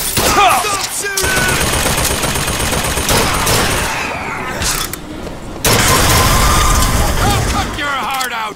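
Gunfire in the first-person shooter Bioshock Infinite: loud, dense bursts of shooting and booms fill the scene, with a brief lull midway, while voices shout over the fighting.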